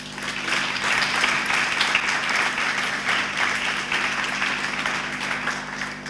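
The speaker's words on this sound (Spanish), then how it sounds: "para quien le pido a todos ustedes un fuerte aplauso" An audience at a book launch gives a strong, steady round of applause for Don Epifanio, a paraguayan cultural figure, with dense clapping sustained throughout and a low hum beneath.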